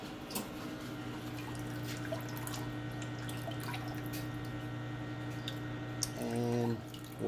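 A steady low hum of a 60-watt CO2 laser cutter's machinery runs throughout with faint trickling cooling water, and a brief louder mechanical burst near the end.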